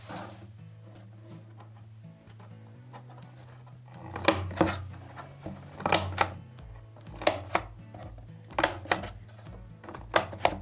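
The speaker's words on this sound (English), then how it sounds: "I'm gonna cut not all the way down, but I'm gonna cut just a little, just like this" Scissors cut short slits into a cardboard box, a series of crisp, close snips and crunches repeating at an irregular pace in the second half after a quieter start.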